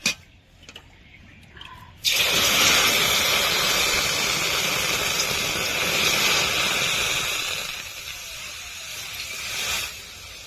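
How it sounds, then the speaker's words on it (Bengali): Water is poured into fried mung dal in a hot wok: after a quiet start, a sudden loud, close hissing rush bursts out and holds steady for most of the clip before easing slightly near the end. "এখন আমি জল দিয়ে দেব"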